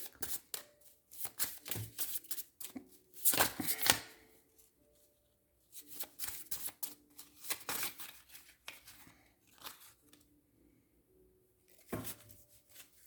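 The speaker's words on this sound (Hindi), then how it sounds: "यहाँ पे डिवाइन टाइमिंग डेक में से हम लोग 2-3 कार्ड निकाल लेते हैं" Tarot cards from a divine timing deck being shuffled and drawn, with repeated brisk riffling bursts and soft slides separated by short quiet gaps, close and fairly faint.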